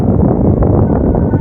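Strong gusts buffet the microphone at a garden resort, a loud, continuous low rumble and roar that covers everything else for the whole moment.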